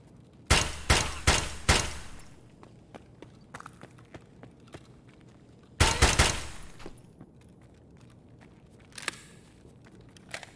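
A KS-23 shotgun fires in Escape from Tarkov: a quick cluster of four loud, sharp blasts, a pause, then another burst of close shots, with fainter clicks and a last shot near the end.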